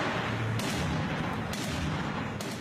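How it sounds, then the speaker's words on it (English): Heavy gunfire in urban street fighting in Ramadi, Iraq, with a few sharp distant reports standing out over a constant rumbling, noisy background. "Heavy gunfire continues to ring out."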